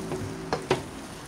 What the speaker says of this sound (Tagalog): Ito guys, haluin lang ng haluin hanggang sa matuyo.